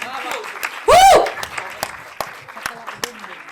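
Audience applause at a short film preview event, light scattered claps at a moderate distance broken by a loud burst of cheering and whooping near the start, with a voice speaking over the clapping.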